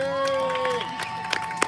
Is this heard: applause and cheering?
yes